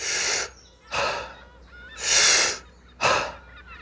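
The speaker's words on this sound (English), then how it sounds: "I'm also doing a few chest breathing practices with an open mouth." Open-mouthed chest breathing exercise done while nursing a cold: four strong, breathy exhalations with rasping airflow, each lasting about half a second, evenly spaced, close and loud with quiet pauses between.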